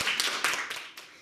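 An audience at a primary school public speaking contest applauds a student speaker, a short, moderately loud patter of clapping hands with uneven bursts.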